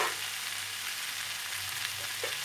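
Boiled jackfruit sizzling in a spice masala in a pan, a continuous even hiss close up with a couple of faint soft stirring touches near the end, no talking.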